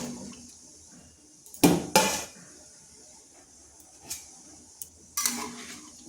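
A lid goes onto a pot of yam and potato pieces in salted turmeric water, giving a few sharp metallic clanks against a quiet kitchen background.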